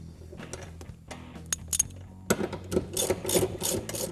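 Bolting seat receiver clips onto a Jeep JK: quiet metallic ratcheting and scraping clicks, irregular and close, with rustling and tool handling in between.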